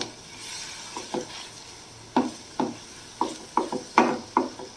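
Butter garlic mushrooms with chili flakes get stirred in a pan, a soft sizzle beneath a series of distinct scraping strokes from the spatula, about a dozen irregular pushes, close and unaccompanied by speech.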